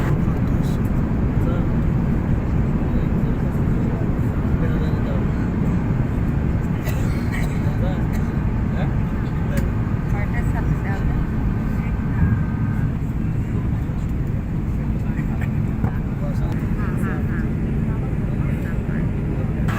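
A passenger jet cruises at about 36,000 feet, its cabin filled with a steady, broad engine roar that holds constant throughout.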